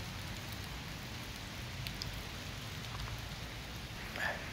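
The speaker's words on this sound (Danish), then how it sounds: "Det regner I dag." Autumn rain falls steadily outdoors, a soft even hiss of drops with faint scattered patters throughout.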